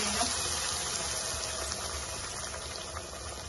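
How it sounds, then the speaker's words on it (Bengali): Spices dropped into very hot oil for a dry fish bhuna hiss and sizzle in a steady, close, dense crackle that holds evenly throughout without pause. "মশলাগুলো দিয়ে দিলাম। সাবধানে, তেল অনেক বেশি গরম"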